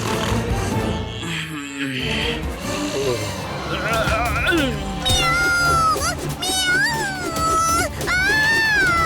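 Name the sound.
cat meowing in a cartoon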